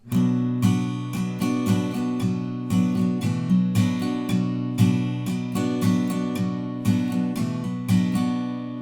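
Acoustic guitar strummed in a steady rhythm, chords ringing out clearly and closely with regular downstrokes, no voices.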